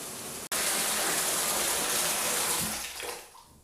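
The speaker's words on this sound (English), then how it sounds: "I learned today that my bathtub likes to drain water" Water rushes steadily from a bathtub as it drains, a loud continuous gush that runs without a break and then fades away with a few gurgles near the end.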